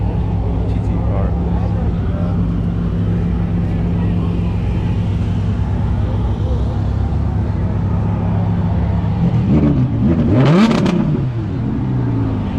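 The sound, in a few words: sports car engine revving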